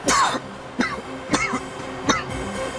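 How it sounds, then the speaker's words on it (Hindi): Someone coughs four times in short, harsh, throaty bursts spaced roughly half a second apart, close and fairly loud. "उन्हें ऐसे ही खांसी आती है।"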